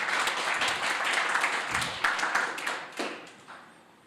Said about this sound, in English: you can still clap for them